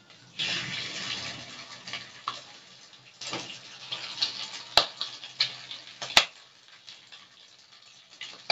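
Pork that was boiled earlier fries in hot oil in a pan after the beans, with a steady low sizzle, soft stirring and scraping, and a few sharp clicks of utensils against the pan.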